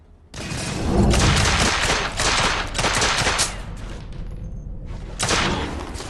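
Sustained shotgun fire in The Order: 1886, dense overlapping blasts and booms in a steady barrage, loud and close, with a brief lull before another burst near the end.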